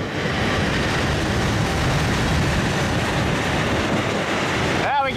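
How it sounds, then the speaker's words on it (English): A Union Pacific welded rail train rolls past close by in Clarence, Iowa, a dense, steady rumble and clatter of rail cars with strong wind, ending with a short metallic wheel squeal. "got myself a rail train."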